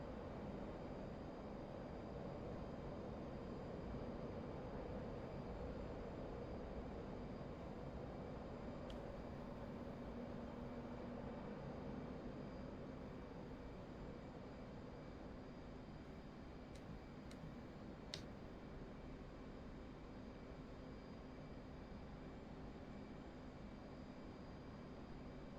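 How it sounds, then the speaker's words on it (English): Steady, unbroken roar of a jet engine on afterburner in the flight simulator DCS, a dense droning rumble that holds at even, moderate loudness throughout with faint clicks near the end. "I need to put some afterburners because I'm getting a little slow."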